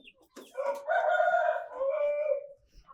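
A rooster crows loudly and close by on a free-range farm with two to three hundred native country chickens, one long drawn-out call, with no talk over it.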